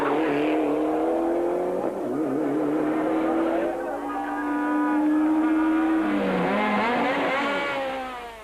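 Rally car engines rev hard on a Cape Rally 2006 stage, including a Mitsubishi, with rising and falling revs under continuous engine roar and commentary-style talk over it.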